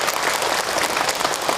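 A congregation at an Islamic religious talk claps for Kak Hilman, many hands clapping steadily and evenly throughout, fairly close and loud with no voices over it.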